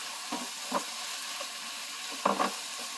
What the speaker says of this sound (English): And now I'm going to add some minced red onions.